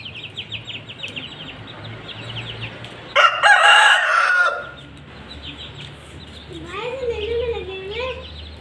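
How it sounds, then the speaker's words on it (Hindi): Chicken clucking and crowing nearby on a small home flock's premises, a loud burst of calls in the middle followed by quieter clucks, with a person talking in the background. "लेकिन ये मुर्गी इनका पीछा नहीं छोड़ती, जहाँ भी जाओ ना ये मुर्गी इनके पीछे ही आ जाती है।"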